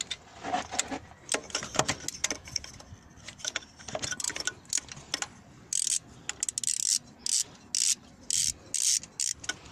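A socket wrench works loose the bolts holding the EGR valve on a Renault Laguna 3 2.0 dCi engine, giving close, repeated clicking ratchet strokes and metallic clinks, with brief rhythmic bursts of ratcheting toward the end.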